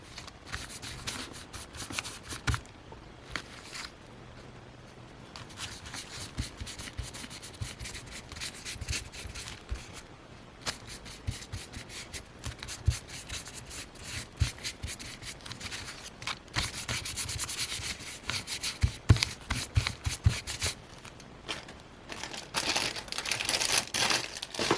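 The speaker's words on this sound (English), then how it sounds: "maybe I'll do a little dry brushing on this one" Dry brushing on a paper envelope booklet makes a close, continuous scratchy rubbing and crinkling of bristles dragging across paper, with irregular strokes and no talk.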